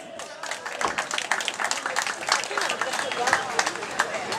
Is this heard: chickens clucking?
no